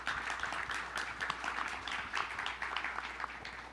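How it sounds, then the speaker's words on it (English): A conference audience at an Islamic finance forum applauds a panel of experts, a faint, steady patter of many hands clapping with no speech. "Let's give a round of applause to our panel experts."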